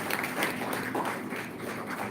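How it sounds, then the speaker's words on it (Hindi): Applause from a gathered audience at an Independence Day program on 15 August 2021, welcoming a teacher; dense, steady clapping of many hands that holds throughout, fairly close, with some faint background voices. "आचार्य जी को स्वागत में आप वहीं से स्वागत करेंगे तालियों के साथ"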